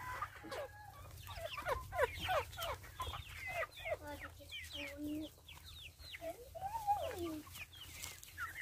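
A flock of chickens squabbling over a banana heart in a farm chicken house, with busy overlapping clucks and squawks close by, continuous throughout.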